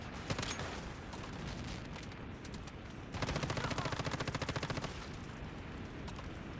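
Gunfire in the video game Once Human, a faint, fast, steady stream of automatic shots that grows denser midway, set against a constant background rumble.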